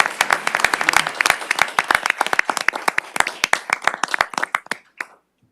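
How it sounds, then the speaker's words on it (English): A small group applauds at a city council meeting, brisk separate handclaps close by that thin out and stop after about five seconds. "give them a big round of applause"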